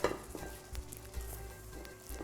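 White sauce with peppers being stirred in a pan, quiet soft scraping and gentle bubbling sizzle with a few faint utensil knocks, close but low in level.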